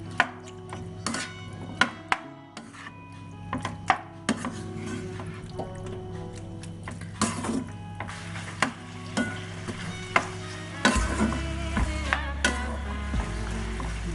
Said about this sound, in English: Now saute all of them perfectly.